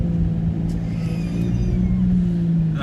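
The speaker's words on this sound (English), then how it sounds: "it is deep because the water's pissing out the exhaust" A Vauxhall Omega drives through deep floodwater in a lane, water bubbling out of its exhaust, giving a steady close engine rumble with a low watery burble and no talking.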